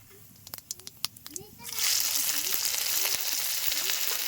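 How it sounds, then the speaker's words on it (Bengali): Whole cumin and peanut paste hit hot oil: a few sharp crackles and pops first, then a sudden loud, steady sizzle that keeps frying close by. "এই তেলের মধ্যেই দিয়ে দিচ্ছি আমি গোটা জিরে, এর সঙ্গে দিয়ে দিচ্ছি বাদাম বাটা"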